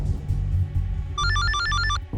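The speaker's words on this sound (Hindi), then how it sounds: "फोन बज रहा है।" A telephone rings with a rapid electronic trilling bell in a short burst, loud and close over a low background hum.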